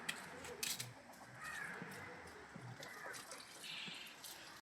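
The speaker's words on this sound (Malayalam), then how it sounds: "വെള്ളം ഒഴിക്കുന്നത് കുറച്ച് കൂടി പോകുന്നുണ്ട് കുറച്ച് കുറച്ചൊഴി" Water splashing and trickling as it is poured over garden plants such as beans and okra outdoors, steady and fairly faint, with a crow cawing in the background.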